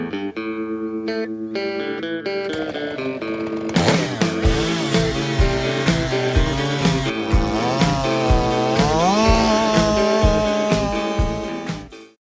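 A Stihl 044 chainsaw bucking Australian hardwood runs loud and near, starting with a lower engine note and then roaring into a sustained high-revving whine with pulsing, shifting pitch for most of the stretch.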